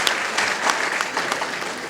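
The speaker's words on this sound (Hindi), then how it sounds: "इनके लिए आप जरूर एक बार ताली जरूर बजाएं।" An audience claps steadily throughout a speech event, a dense wash of many hands at fairly even loudness with scattered sharper claps standing out.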